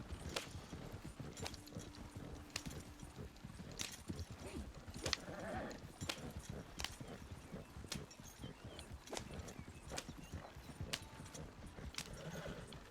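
Horse hooves clip-clop at a steady trotting rhythm in the video game Red Dead Redemption, a faint, regular series of knocks with a brief whinny-like tone partway through.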